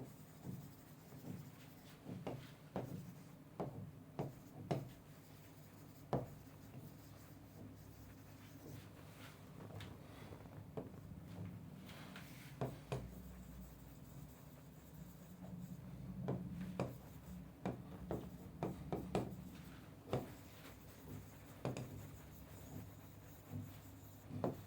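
Handwriting on paper, a steady run of short scratchy pen strokes and taps at close range, with brief pauses between bursts and no voices.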